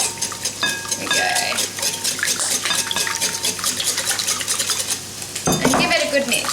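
Eggs are whisked with melted butter in a bowl as part of a zucchini slice batter, giving a busy, continuous clatter of whisk against bowl up close, with a sharper burst of scraping near the end.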